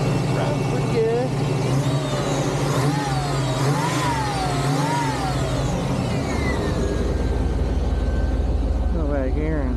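A 1988 Pontiac Firebird V8 with an Edelbrock Performer intake and a hopped-up throttle body runs steadily close by, with a low rumble throughout and a few revs, while someone talks over it.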